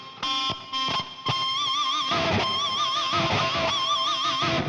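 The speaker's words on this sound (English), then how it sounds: "An artificial harmonic, or a pinch harmonic" An electric guitar plays pinch harmonics, with a squealing, wavering high overtone from the thumb grazing the string just after the pick, in a few short hits and then a long sustained bending note, alone without talk.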